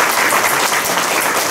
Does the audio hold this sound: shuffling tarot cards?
no